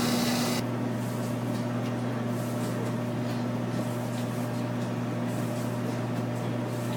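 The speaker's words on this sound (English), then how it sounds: "This is a lot of dough, so, that's why I'm using the mixer." A large batch of bread dough kneaded in an electric stand mixer, giving a steady, constant motor hum with a tonal whine, moderately loud and continuous, no talking.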